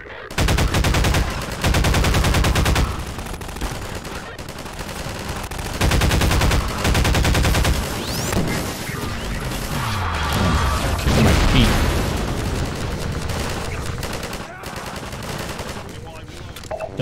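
Rapid automatic gunfire in Half-Life 2, loud bursts of machine-gun fire in repeated volleys with crashes and mechanical clatter between them, some talking mixed in.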